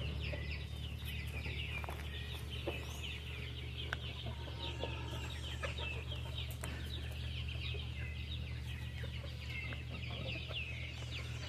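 Chickens and a young rooster on a rural smallholding during dry, hot weather, scattered soft clucks and calls at a distance over a steady low hum.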